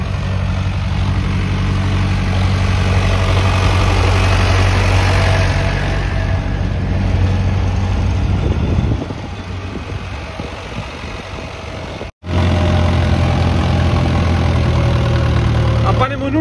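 A tractor engine idles steadily and close by, a loud continuous low rumble that drops briefly around the middle and cuts out for an instant before resuming, with some voices in the background.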